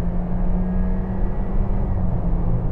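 Honda CR-V 1.5-litre petrol engine with automatic gearbox accelerating from 50 mph, a steady loud droning rumble heard from inside the cabin with no talking.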